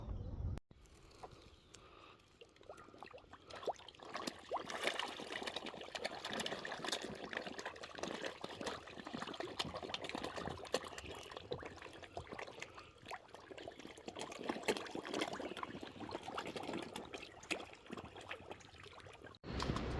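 River water flows between forest banks in a continuous rushing, splashing wash, fairly close and steady for the whole stretch, with no voices over it.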